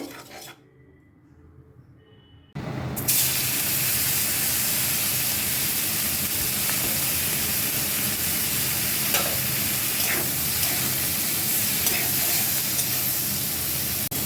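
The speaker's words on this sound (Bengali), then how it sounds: "এবারে ভাপিয়ে রাখা সবজিগুলো দিয়ে দেব" After a quiet opening, steamed vegetables drop into a hot pan of butter and paneer-frying oil, and a sudden loud sizzle follows that runs on steadily, with faint stirring scrapes underneath.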